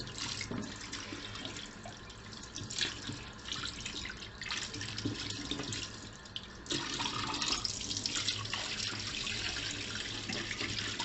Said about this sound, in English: So now I'm just running the water right under the tap.